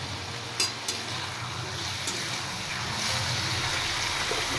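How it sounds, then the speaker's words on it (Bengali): Cut potatoes going into a frying pan for a Dhaka-style bottle gourd greens chorchori, giving a steady, moderately loud sizzle with a few sharp clinks early on and no talking. "এবার আমি দিয়ে দিচ্ছি কেটে রাখা আলু।"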